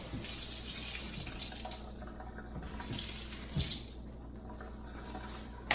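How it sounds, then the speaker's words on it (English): Hands rinsed under a running kitchen tap during juicing with a Breville juicer; steady splashing stream of water into the sink, close and moderately loud, with a brief bump near the end, no voices. "I'm going to rinse my hand off again."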